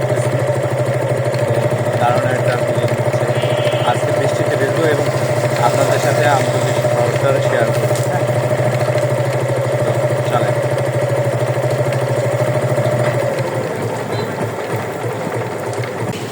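A motorbike ridden through Amtali town in the rain gives a steady, close engine drone with a buzzing, rapid mechanical rhythm, holding even throughout and easing slightly near the end.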